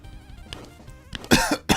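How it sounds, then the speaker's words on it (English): A sick person's dry cough: two or three harsh, close bursts near the end, after a stretch of quieter background sound. "It's just a dry cough at this point."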